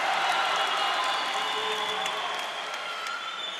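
Spectators applauding at a cesta punta final of the Gant d'Or summer league, steady sustained clapping and crowd noise filling a large fronton, moderately distant and slowly fading.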